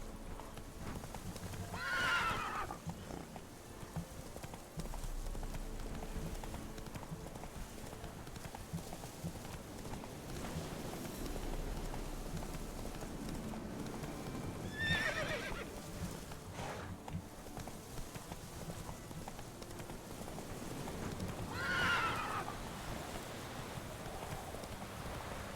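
Galloping horse in a video game: steady clip-clop hoofbeats continue throughout, broken by three loud neighs spread across the run, with a faint rain-like patter in the background.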